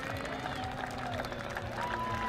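Steady applause and crowd noise from a stadium at a Portland Thorns vs Angel City FC soccer match, a continuous wash of clapping with a commentator talking over it.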